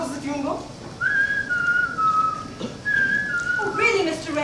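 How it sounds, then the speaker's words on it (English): A person whistles the melody of Three Blind Mice, a clear solo tune of sustained and stepping notes with brief pauses, fairly close and moderately loud. "3 blind mice. How does the tune go?"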